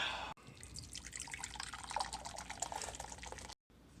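Broth base pours steadily into a pot for a French onion pot roast, a continuous liquid splash and trickle running close and alone for several seconds with a brief break near the end.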